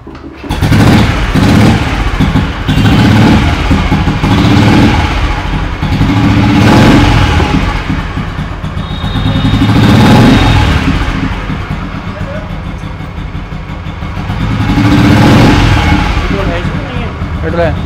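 A 2004 Royal Enfield motorcycle single-cylinder engine, freshly restored, fires up and revs in repeated swells, loud and close, with voices talking over the engine noise.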